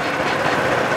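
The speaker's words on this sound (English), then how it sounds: "The engine is fired up." A sugarcane juice press machine's engine runs steadily at a street stall in Phnom Penh, Cambodia, giving a continuous, loud, even idling drone with no speech.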